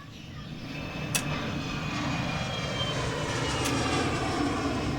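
Airplane engine of a departing flight, a broad steady roar that builds slightly in strength and holds throughout, with faint brief clicks on top.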